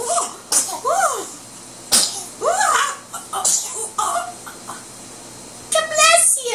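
A small child at a meal gives a sharp sneeze amid adult cooing and chatter, with laughter and baby noises around it, close and loud.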